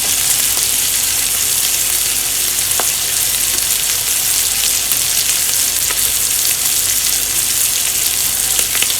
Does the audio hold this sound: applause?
no